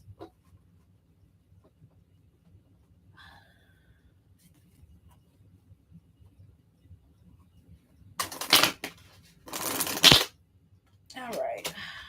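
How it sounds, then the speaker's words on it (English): Tarot cards are shuffled in two quick riffling bursts, close and crisp, after a long quiet stretch, followed by a brief voice. "The cards are like, I am done shuffling, lady."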